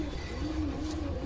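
A female pink-eyed pet pigeon coos steadily, a low rolling call that rises and falls throughout, close by over a dense background hum.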